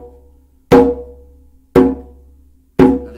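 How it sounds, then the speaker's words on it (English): Three sharp, loud slap strokes on a hand drum, each a crisp cracking hit with a quick ringing decay, evenly spaced about a second apart with no talking. "Now there's also a sound called a slap."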